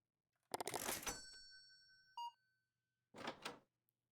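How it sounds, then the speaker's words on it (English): Cash register effect from a video game: a burst of mechanical rattling and a bright ding, then a short beep and a second clattering rattle, clear and close against near silence. "cash register."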